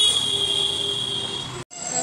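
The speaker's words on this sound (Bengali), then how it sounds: "ট্রেন ঢুকে গেছে রানাঘাট।" A train pulling into Ranaghat station, a steady close rumble with a bright high metallic whine and wheel squeal held throughout, then a brief sudden gap before the noise resumes.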